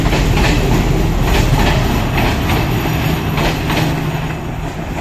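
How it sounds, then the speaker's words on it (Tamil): A train rumbles past on the tracks nearby on the route to the Nine Arches Bridge, Sri Lanka, a steady loud roar with rhythmic clacking of wheels throughout. "அதில் இப்போ தான் ஒரு ட்ரெயின் கிராஸ் ஆகிருக்கு."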